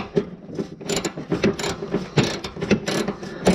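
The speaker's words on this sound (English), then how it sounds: "So I just got a Phillips bit inside of a socket. They come out pretty easy once you get them started." A ratchet fitted with a socket and Phillips bit clicks in rapid, uneven bursts close up while undoing grille bolts on a 2020 Subaru Crosstrek, with short pauses between strokes.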